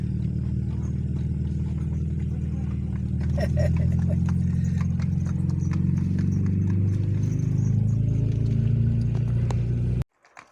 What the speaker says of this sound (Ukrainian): Якраз їдуть коні гружені